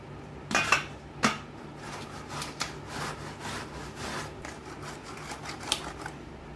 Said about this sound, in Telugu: ఇలా ఒక గ్రేటర్ని పెట్టుకొని దాంట్లో మామిడికాయని తురుముకోవాలి